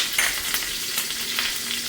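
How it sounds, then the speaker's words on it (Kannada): Curry leaves sizzle and crackle in hot oil with red chillies for the tempering of an Udupi-style Mattu Gulla brinjal curry, a steady, loud frying hiss throughout. "ನಂತರ ಮೆಣಸಿನ ಖಾರ ಬಿಡೋಕ್ಕೂ ಕರಿಬೇವನ್ನು ಹಾಕ್ತಾ ಇದ್ದೀನಿ"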